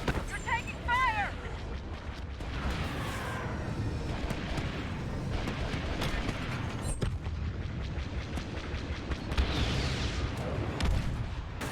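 Blaster gunfire in Star Wars Battlefront II rattles continuously in dense bursts with heavy booming impacts across a noisy battlefield, while voices call out over the shooting.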